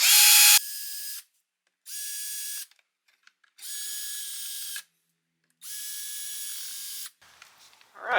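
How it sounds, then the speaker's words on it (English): A power driver backing four mounting screws out of a trolling motor tray top plate, with four separate whirring bursts of about a second each and short silent gaps between them, loud and close. "I'm going to go ahead and remove the 4 mounting screws right here"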